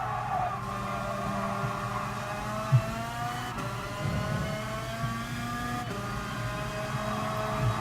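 The high-pitched engine of an FIA shifter kart in the video game GT Sport whines steadily, climbing in pitch through each gear before short drops at the shifts, loud and close with no talking.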